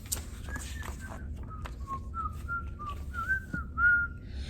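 An elderly woman whistles a short melodic tune on her way to bed, with clear sliding notes close to the listener over a low, steady background hum.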